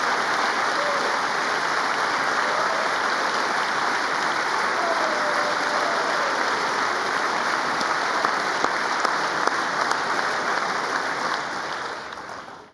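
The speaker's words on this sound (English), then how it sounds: "Just a few clapping, but they ain't standing up or nothing." Scattered clapping from an audience carries on at a steady, moderate level, with a few sharper claps standing out near the end before it fades.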